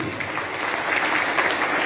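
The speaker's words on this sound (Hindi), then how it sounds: "तो एक बार ताली बजा दो अपने लिए" Audience at a gathering bursts into steady, dense applause, many hands clapping together at close range for a brief moment with no talking.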